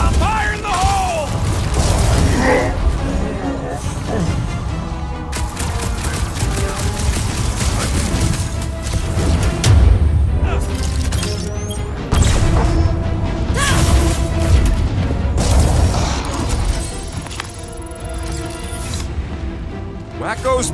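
Explosions and heavy combat in the video game Guardians of the Galaxy, a dense, loud barrage of booms and crashes running throughout, with characters talking over the action.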